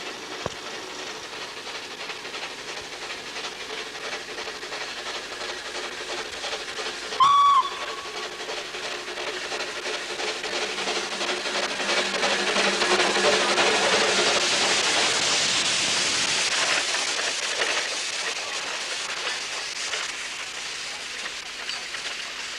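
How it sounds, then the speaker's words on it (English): An 1899 Hunslet and an 1877 De Winton upright-boiler slate quarry engine in steam give one short whistle blast, then a long rising hiss and rumble of steam and moving train that swells and fades. "two ex-Slate Quarry engines, Britomart, which is an 1899 Hunslet, and Challoner, an 1877 De Winton upright boiler engine,"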